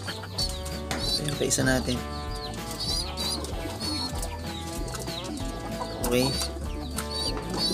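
Breeding pigeons in a loft give soft, overlapping coos and clucks, close and continuous, while a person talks briefly among them.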